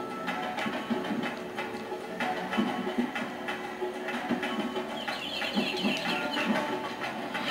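A game chicken or bird in Tak and the Power of Juju clucking repeatedly in short, choppy bursts over steady background game sound, fairly close and continuous.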